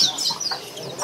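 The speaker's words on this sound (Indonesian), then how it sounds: "Cicakino yang betina" A female cicakino bird calls in a bird market with short, high chirping notes repeated quickly. The calls are close and fairly clear over faint background noise.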